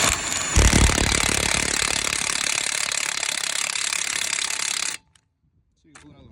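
A Milwaukee 1/2-inch impact wrench hammers loose rusty lug nuts on a big truck wheel, a loud continuous rattling burst lasting several seconds before cutting off abruptly, followed by a brief quieter clatter.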